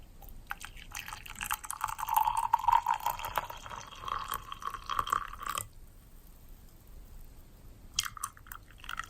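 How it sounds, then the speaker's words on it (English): White tea leaves lifted from a cup, letting water drip back in soft, close trickles and drops that run for several seconds, then pause before a brief final splash. "Lift it up and let out a little bit drop of the water."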